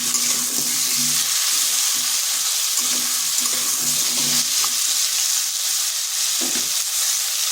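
Pumpkin and potato pieces frying in oil in an uncovered pan, a loud continuous sizzle with intermittent stirring and scraping close by, no talk.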